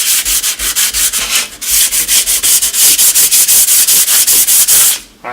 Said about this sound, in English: All right, now it's sanded.